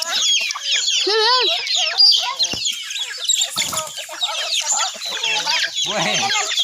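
Many chickens clucking and squawking close by, a busy overlapping chorus of fowl calls that goes on without pause.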